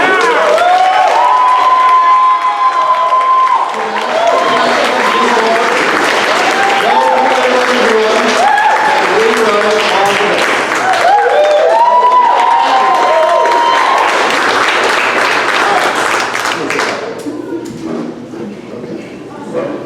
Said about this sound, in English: I want a nice round of applause for the three incredibly talented men behind you.